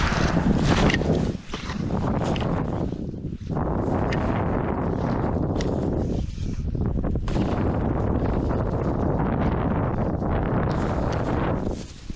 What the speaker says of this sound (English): It's so cold and windy out here today.